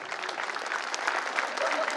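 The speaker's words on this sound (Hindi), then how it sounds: "बहुत बढ़िया जी, बहुत सारी तालियां" Brief burst of dense audience clapping at a parody stage show, fairly faint and steady throughout.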